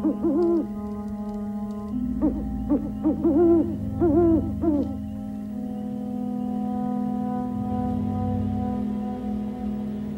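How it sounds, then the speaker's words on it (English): An owl hoots in a short series of wavering calls over a sustained tonal drone, then the hoots stop and the low hum carries on alone, faint and somewhat distant. "Cooper hears an owl"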